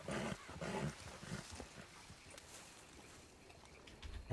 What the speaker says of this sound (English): Yeah, okay, that's a black bear.